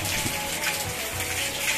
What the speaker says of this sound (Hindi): आप देख सकते हैं बहुत जोरों की बारिश हो रही है।